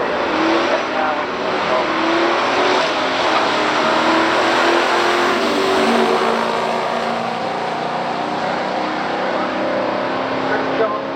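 A 1970 Torino Super Cobra Jet and a 1974 Pontiac Trans Am SD 455 drag race, their engines a loud, continuous roar that holds steady throughout with no breaks, heard close and dominating the scene.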